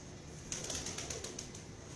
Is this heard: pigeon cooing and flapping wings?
yes